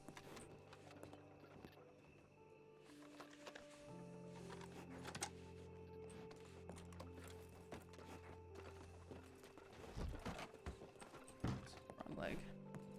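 Clip-clop of horse hooves in the RedM western video game as a rider moves through a crowd of horses, steady overlapping hoofbeats under ongoing voices.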